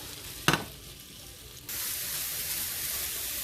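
Mushrooms sizzle and fry in a hot pan with melted fat for a Beef Wellington, a brief clatter near the start, then a steady, loud hiss that continues alone.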